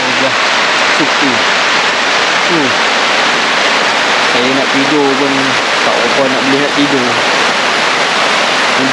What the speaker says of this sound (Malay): Hujan lebat kau-kau ni kat luar